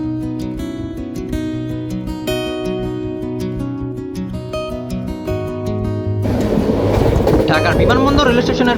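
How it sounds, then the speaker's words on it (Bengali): Rangpur Express train pulling out of Dhaka Airport railway station, a steady rumble with sustained horn-like tones, then louder clattering and onboard noise with people talking in the last few seconds. "আমাদের ট্রেন রংপুর এক্সপ্রেস এই মুহূর্তে কিন্তু ঢাকা বিমানবন্দর রেল স্টেশন ছেড়ে যাচ্ছে"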